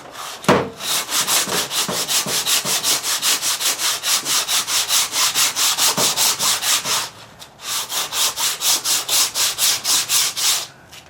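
Steady back-and-forth sanding strokes rasp rhythmically across fiberglass body filler on a loose panel, pausing briefly before the scraping rhythm resumes.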